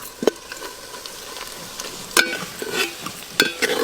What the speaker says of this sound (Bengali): পেঁয়াজগুলো একটু ভালো করে ভাজি